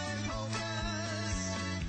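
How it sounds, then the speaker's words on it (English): Polka music from the Primetime Polkas radio show plays in a short steady stretch with rhythmic accordion-like tones and a bouncy bass, moderately quiet and alone. "That's the sound of Primetime Polkas"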